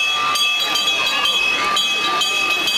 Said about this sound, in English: You may hear that bell in the background.